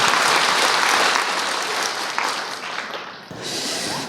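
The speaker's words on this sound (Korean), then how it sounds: "let's give another round of applause to our remnants." Audience applause at a church gathering, a dense burst of clapping that starts loud, fades slightly, then swells again briefly before trailing off.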